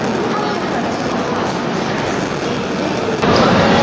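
Humsafar Express departing Kharagpur Junction, a steady loud rumble of the moving train and wheels on track throughout, swelling slightly louder near the end.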